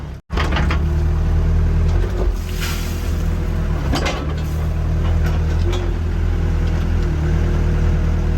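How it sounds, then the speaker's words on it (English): A Yanmar ViO80 excavator engine running at low idle gives a loud, steady, close diesel drone with a low rumble and small mechanical rattles and clunks over it, and no one speaks. "This is working at a low idle."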